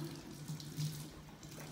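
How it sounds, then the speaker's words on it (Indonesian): Tap water runs steadily into a sink for handwashing, a constant close splashing hiss that carries on without a break under a low hum. "sebelumnya cuci tangan dulu ya Bu dengan air mengalir"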